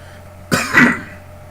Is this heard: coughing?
yes